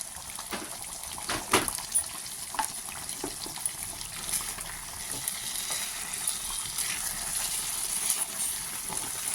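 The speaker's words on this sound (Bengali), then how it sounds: "এবার সামান্য জল দিচ্ছি, 1 কাপ।" Water poured into chicken kosha frying in a pan, a soft hissing sizzle with watery bubbling and occasional stirring, fairly quiet throughout and without speech.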